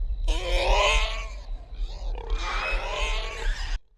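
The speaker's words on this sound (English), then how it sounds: "There's the pig again. I think that's just whenever they kill a pig, right? Because that sounds like a dying pig." A pig squeals in long, harsh, strained bursts, two drawn-out cries separated by a short dip, loud and close, sounding like an animal in distress.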